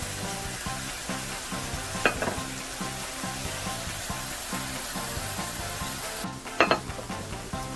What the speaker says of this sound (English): We're just gonna wait until our mushroom turns into brown.